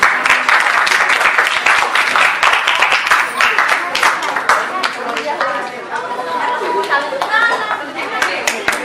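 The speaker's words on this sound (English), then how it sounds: "a hand of applause" A crowd at a school prize-giving ceremony applauds loudly with a dense rattle of clapping, mixed with cheering and chatter that becomes more noticeable as the clapping thins toward the end.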